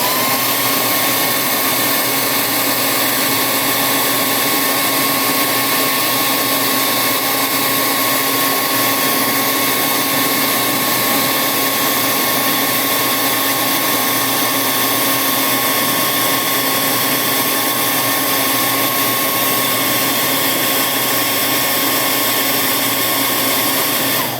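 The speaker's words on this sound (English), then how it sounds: "if I hit it with a hairdryer, we'll see how fast it dries" A hair dryer blowing loudly and continuously at close range onto a painted sculpture, a steady whirring roar with no breaks.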